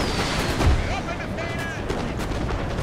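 Artillery cannon fire in the Napoleon Total War video game, a dense roar of booming shots and battlefield rumble, loud and continuous, with a voice talking over it.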